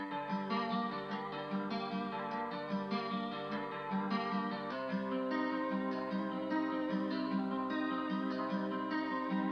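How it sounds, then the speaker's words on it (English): Arpeggiated guitar in a vintage-style sample, a steady run of plucked notes with a warm, thin, slightly washed tone, played continuously and evenly throughout with no voices. "Next, I added this like arp guitar that sounds like this."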